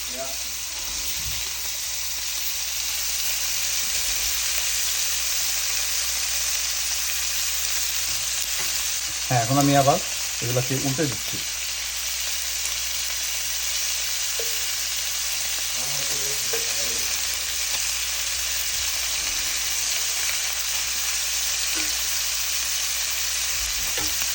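Steak bites frying in a hot pan with a constant loud, close sizzle throughout, broken by a few short scraping and clinking sounds of stirring.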